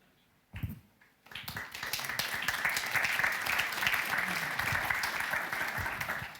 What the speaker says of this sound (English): I think this really deserves the applause